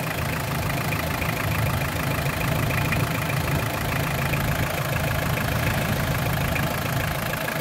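A Mitsubishi Pajero 4D56 turbo diesel engine idles steadily after an overhaul, a loud, continuous, even rumble that runs unbroken from start to finish with no voices.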